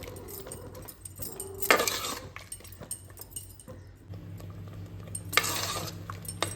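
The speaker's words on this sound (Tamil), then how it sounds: "நல்லா கிளறி விட்டுடலாம்." Spoon stirring grated coconut into a pot of Kadamba Sadam, a lentil and rice dish, giving a few scraping, clattering bursts close by between quieter moments, with a low steady hum beneath.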